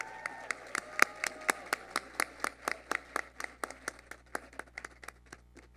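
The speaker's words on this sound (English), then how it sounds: "One more round of applause. She deserves it." An audience applauds a middle school teacher being honored as a district Teacher of the Year, with steady, sharp, evenly spaced claps close by that thin out slightly toward the end, and no voices over them.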